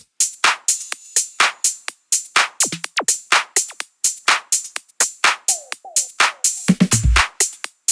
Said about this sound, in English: let's finish up by looking at the drums in this deep house track